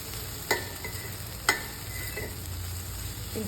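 Okra (bendakai) frying in AMC cookware, with a soft steady sizzle underneath and two sharp scraping knocks of stirring about a second apart, close by and fairly quiet.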